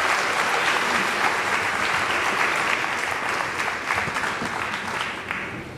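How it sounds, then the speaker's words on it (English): An audience at a school winter band concert applauds sixth and seventh graders and the jazz band, a loud, sustained roar of many clapping hands that tapers off slightly at the end. "Let's just give a round of applause for our sixth graders,"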